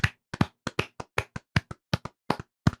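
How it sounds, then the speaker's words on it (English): Podcast hosts clap their hands in a loose, uneven rhythm, about a dozen sharp close claps spread over a few seconds, with no talking over them. "We're clapping because you don't do it"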